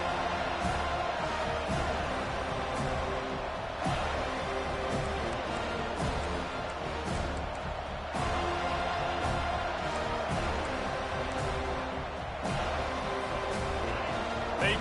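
A stadium crowd in a college football video game roars in a steady, dense wash of cheering and noise that swells and dips slightly across the stretch, with faint commentary underneath.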